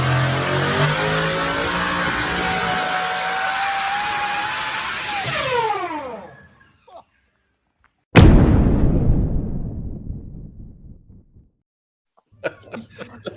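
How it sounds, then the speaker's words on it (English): A car engine on a dyno during test pass number 12 revs hard and loud, its pitch sweeping down as it winds off. After a short silence comes a sudden, powerful bang that rings and decays, then faint scattered noises. "Matt, fire up the dyno video. This is test pass number 12."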